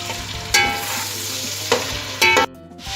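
Masala of garlic, ginger and yogurt sizzles steadily in a pan for chicken pulao, broken by a few loud scraping stirs of a spoon against the metal, close and with no talking.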